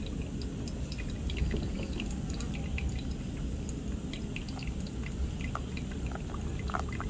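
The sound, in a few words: hot water poured over Ethiopian coffee for pour-over brew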